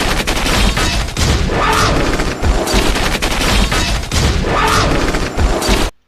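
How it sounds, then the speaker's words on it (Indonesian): Giant robots in a police robot film fire their guns in a dense, relentless barrage, loud automatic gunfire layered with booms and crashing impacts that pound on without pause before cutting off abruptly. "Ia pun sudah disambut dengan robot-robot besar yang langsung menembakinya dengan cukup brutal"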